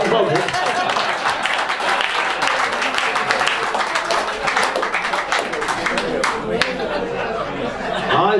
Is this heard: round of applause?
yes